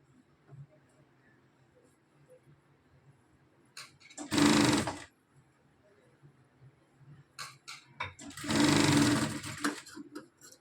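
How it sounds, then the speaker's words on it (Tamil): A sewing machine runs a straight seam on cloth strips while a tailor finishes a neckline. It comes in two short, close bursts of rapid stitching about four seconds apart, with quiet room noise between them. "இந்த மாதிரி ரெண்டு பக்கமும் ஒரே மாதிரி வச்சு இந்த மாதிரி ஸ்ட்ரெயிட்டில் தையல் போட்டுக்கலாம்"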